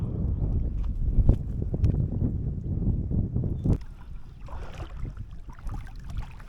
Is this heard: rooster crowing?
no